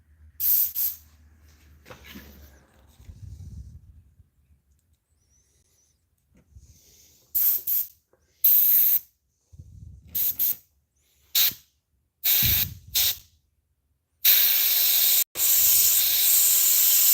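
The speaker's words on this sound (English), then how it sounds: "Airbrush, air compressor." An airbrush fed by an air compressor sprays paint in short separate hissing bursts of a second or so, ending in a longer continuous spray, with quiet gaps between bursts.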